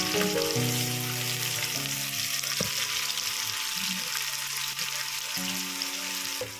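Chopped onions tipped into hot oil where mustard seeds are already spluttering, for a vine potato curry; a loud, steady close sizzle with a few sharp pops and spoon clatter, and no talking.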